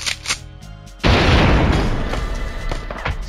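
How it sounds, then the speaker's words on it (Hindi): A grenade explodes in the stealth video game Operation Pinkeye, a sudden loud boom after a quieter stretch, followed by a rumbling decay lasting about two seconds. "ग्रेनेड फेंको, अरे ग्रेनेड फेंको।"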